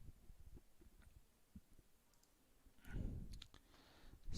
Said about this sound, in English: click here